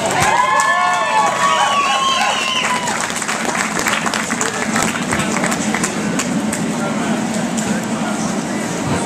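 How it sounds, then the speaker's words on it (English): An audience at the Miss I-500 2012 pageant breaks into dense, loud, steady applause for a contestant, with crowd noise and cheering voices mixed in throughout. "So how about a round of applause?"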